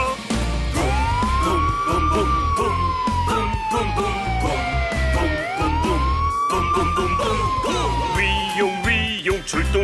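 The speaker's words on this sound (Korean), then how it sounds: "삐용 삐용 출동 소방차." A wailing siren sweeps slowly up and down in long glides, loud and close, over a bouncy children's song with singing.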